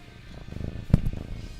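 A cat purrs right into a microphone, a close, low, rumbling flutter with a brief soft thump partway through; no speech is present.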